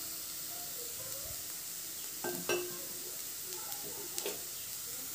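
Cooked mung dal with garam masala is stirred in a pan over a soft, continuous sizzle, with a few faint scrapes and light taps of the spoon.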